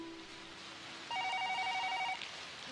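A telephone rings in a drama scene, a single steady electronic ring pattern starting partway through and lasting about a second, moderately loud over quiet room tone, with no talking.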